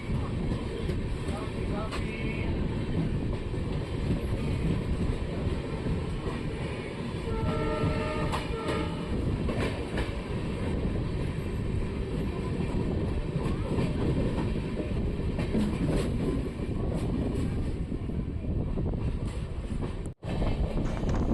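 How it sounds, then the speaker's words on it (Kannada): A train pulls out of Yeshwantpur station with a continuous, loud rumble and rattling wheel noise, a horn sounding briefly midway, and steady motion noise running throughout. "ಸೊ ಯಶವಂತಪುರದಿಂದ ನಮ್ಮ ಟ್ರೈನ್ ಹೊರಟಿದೆ."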